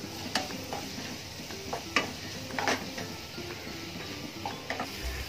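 Tomatoes being stirred into sautéed onions in a pan for a tapioca and soya gravy, with soft scraping, light sizzling and occasional utensil clicks against the pan, moderately quiet.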